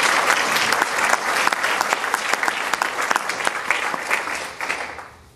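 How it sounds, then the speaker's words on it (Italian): An audience claps steadily throughout, a dense, loud wash of applause with sharp individual claps, fading slightly at the very end, at an evening talk in Italy. "Applauso"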